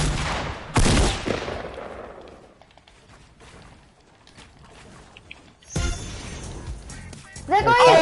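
Gunfire in a multiplayer video game: two loud, sharp bursts near the start, then quieter scattered shots, and a denser volley of blasts toward the end, with a person talking over parts of it.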